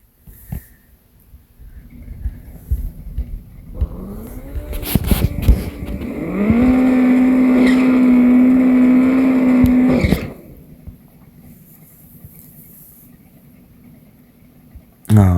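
A drag car revs up and launches down the strip, its engine rising into a loud, sustained high-revving roar for several seconds before cutting off abruptly, leaving quieter rumbling behind.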